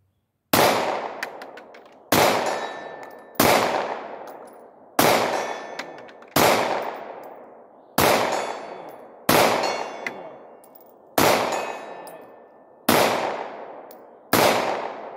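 Ten Glock 19 pistol shots at steel targets 65 yards away, each a sharp loud crack with a ringing decay, fired one at a time at a slow, steady pace of roughly one every second and a half.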